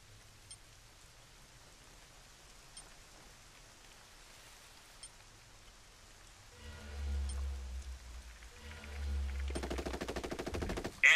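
Bursts of rapid gunfire in Tom Clancy's Ghost Recon Breakpoint crackle in the second half, rising from a quiet background into loud, sustained automatic fire near the end.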